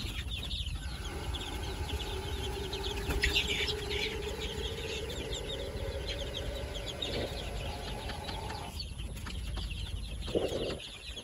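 A flock of six-week-old Dekalb White chickens clucks and chirps steadily over a constant background hum, with scattered overlapping calls, some louder squawks near the middle and end.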